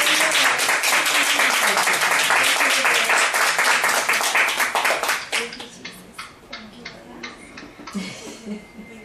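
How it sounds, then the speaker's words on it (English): Group of people clapping together at a women's Bible study, a dense burst of hand claps that carries on for about five seconds before thinning into scattered claps. "Let's give the Lord a hand clap."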